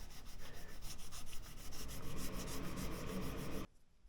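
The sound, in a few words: fret eraser abrasive rubbing guitar frets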